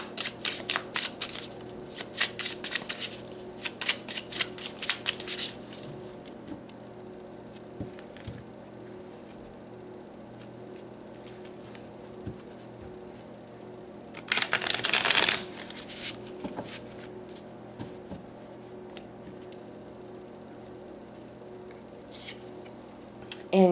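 Tarot cards are shuffled in a quiet room, with crisp riffling bursts at the start, another clear flurry partway through, and scattered soft card flicks in between.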